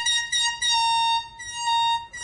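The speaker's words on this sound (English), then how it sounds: "It's a horn." A sustained horn tone with steady harmonics, holding for about a second, dipping briefly and then sounding again, loud and alone with no talk.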